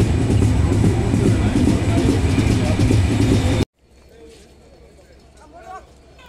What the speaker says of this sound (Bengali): আমাদের ট্রেন ছেড়ে দিয়েছে কাশিয়ানী জংশন।